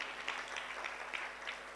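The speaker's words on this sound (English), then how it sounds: "I think you should clap for Tourism Fund for that." Scattered applause from an audience at a leaders' breakfast meeting, fairly faint and distant, with a few sharper claps standing out over a low room hum.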